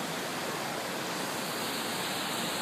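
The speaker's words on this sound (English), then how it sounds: "there's this wall with water coming down it." Water pouring down a water wall at the entrance of an art gallery in Melbourne, a dense, steady rushing wash like a small waterfall, constant and fairly loud with no voices.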